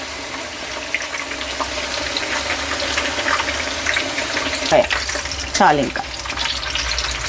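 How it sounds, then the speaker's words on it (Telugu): Brinjal slices for bajji fry in hot oil with a steady close crackle and sizzle, stirred now and then with a couple of sharper scraping clatters; a voice briefly speaks. "అక్కడ మనకి వంకాయలు ఇంకా నూనెలో వేగుతున్నాయండి"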